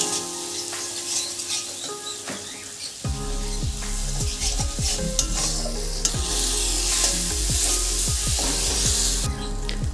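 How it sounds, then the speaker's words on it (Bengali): A paste of ground cumin, coriander and poppy seed sizzles in a pan while a spatula scrapes and stirs it in quick repeated strokes, loud and close, with the frying hiss growing stronger partway through and no voices. "জিরে ধনে আর পোস্ত বাটা এবারে আমি খুব ভালোভাবে কষিয়ে নেবো"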